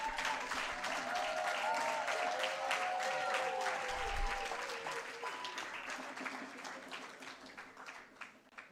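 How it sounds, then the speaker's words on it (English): Steady applause from a large audience for award finalists at a university teaching awards ceremony: dense, continuous clapping that slowly thins, with a low tonal voice-like hum in the middle and a brief low thump. "give them another round of applause."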